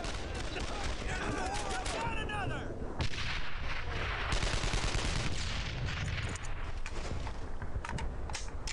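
Booming blasts and gunfire in the World War II shooter Brothers in Arms: Earned in Blood, loud and continuous, with heavy low rumbles under rapid shots and some voices.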